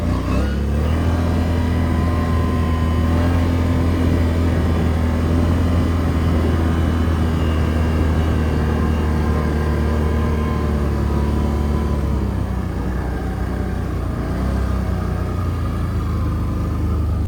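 A Can-Am Outlander 650 four-wheeler ATV on tracks idles in the snow, its engine a steady, loud low rumble with a constant drone that shifts slightly near the end.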